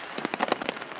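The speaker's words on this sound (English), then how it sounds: "Well, it was a rainy day." Rain pattering on a surface at a lakeside camp on a rainy day, a quick burst of dense, soft drops at moderate volume with no voices.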